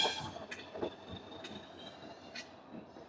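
Saraighat Express train in motion after leaving Howrah station, a steady rumble of wheels on rails with scattered clanks and squeaks, loudest at the start and carrying on at a moderate level with no voices.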